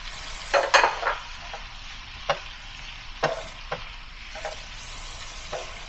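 Quail eggs sizzling in a frying pan with salted fish, a steady crackle of hot oil broken by several sharp louder pops and spatters, close by, with no talk.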